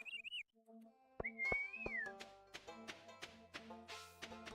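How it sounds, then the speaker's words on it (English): A whistled melody from the Stardew Valley video game rises and wavers, with a short whistle at the start and a longer one over tapping, plucked game music. "That was not a very accurate representation of the whistle"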